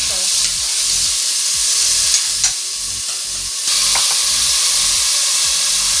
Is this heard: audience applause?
no